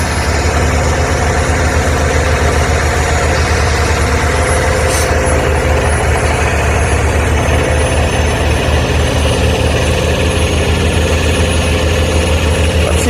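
A Kenworth truck hauling a steerable trailer with turning axles, its diesel engine rumbling steadily and loudly close by with a low idling drone throughout, plus a faint hiss midway.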